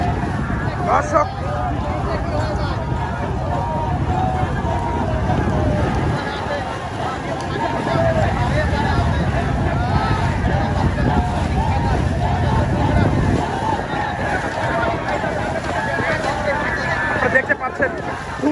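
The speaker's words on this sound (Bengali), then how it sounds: "দুই পাশে কিন্তু হাজার হাজার দর্শক কিন্তু তারা কিন্তু উৎসাহ দিয়ে যাচ্ছে।" Thousands of spectators line both banks at a traditional Bengali boat race, their crowd roar and babble a steady dense wash throughout, mixed with wind on the microphone and water noise, with a commentator speaking over it.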